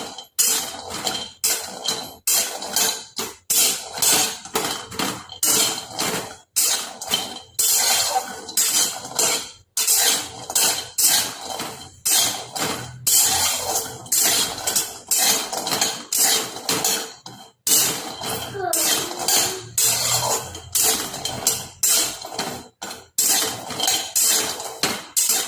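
Walnuts being dry-roasted in a pan at home, giving a steady run of clattering, rattling knocks as the nuts are tossed and scraped against the metal, loud and close with no talk.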